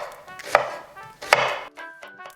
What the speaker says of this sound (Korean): 마늘 한 두 쪽, 세 쪽 정도 대충 다질게요